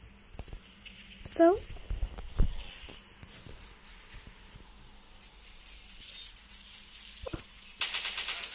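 Gunfire in a World War video game: scattered sharp shots and short bursts, fairly faint and distant-sounding, spread over a player talking throughout.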